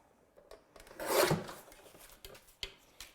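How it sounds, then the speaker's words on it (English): A paper guillotine trims a sheet, giving a short soft scraping rasp of the blade, surrounded by faint light handling taps in a quiet room. "I'm just going to pop this into my guillotine and trim it down"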